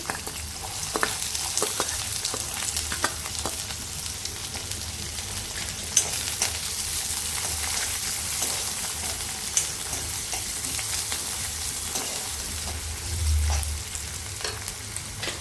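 Onion fries in an iron wok with a steady sizzle, occasional scraping stirs and small pops, close and continuous, no voices.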